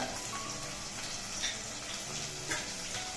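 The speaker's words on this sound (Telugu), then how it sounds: "వీటన్నిటిని కలిపి దోరగా వేగనిద్దాం" Bay leaf, cloves and cinnamon frying in a pan for biryani give off a soft, quiet sizzle with faint crackles and small pops scattered through it.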